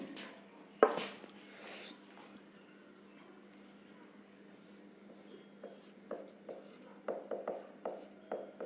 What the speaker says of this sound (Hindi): देखिए यहां पे लिख रहे हैं